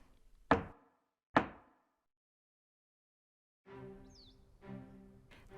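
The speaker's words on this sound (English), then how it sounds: "Someone knocked on the office door." Two sharp, separate knocks on an office door in a quiet room, each with a short decay. A spoken voice follows after a pause.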